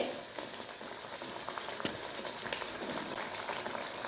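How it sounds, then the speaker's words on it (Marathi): Eggplant bhaji frying in oil over a low flame, giving a steady soft bubbling sizzle with faint crackles throughout, no talk. "आपल्याला एकदम बारीक गॅसवरच तळायचे आहे, जेणेकरून आपले वांगे छानपैकी शिजन आतपर्यंत."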